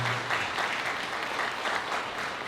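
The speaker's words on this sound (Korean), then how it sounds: "큰 박수 부탁드립니다." Wedding guests at a hotel ballroom ceremony applaud the newlyweds, a steady dense wash of clapping throughout at moderate level, no voices.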